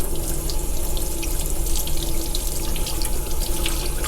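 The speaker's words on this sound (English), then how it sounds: "Let me rinse my hands real quick." Hands rinsed under a running tap to wash off Plasti Dip residue, a steady, loud, close rush of water splashing into a sink with no talk over it.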